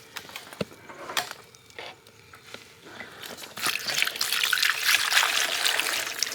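Old fuel trickles and splashes out of the removed tank of an old snowmobile, starting as sparse drips and clinks and swelling into a steady, nearby dribbling stream.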